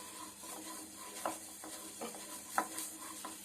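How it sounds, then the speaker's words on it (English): Sambar masala spices, including coriander, dry-roasting in a pan over a low flame, a soft continuous sizzle with occasional light clicks and scrapes of stirring, close and quiet. "We need to fry this in low flame."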